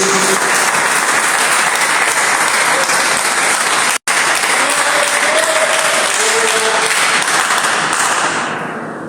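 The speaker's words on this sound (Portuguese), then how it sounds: "Quem pode dar uma salva de palmas para Jesus?" Church congregation applauding in sustained, loud, dense clapping that fills nearly the whole stretch, with a brief break midway and a fade at the end.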